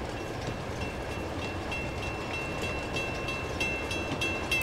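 A train runs steadily in the video game Uncharted 2, a continuous loud rumble with rhythmic rattling and metallic clatter throughout and no pauses or voices.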